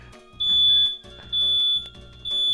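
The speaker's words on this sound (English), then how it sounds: "Smoke alarm's going off." A smoke alarm chirps over music during a session of the game Uncharted Waters: New Horizons, three loud sustained electronic beeps in a steady rhythm.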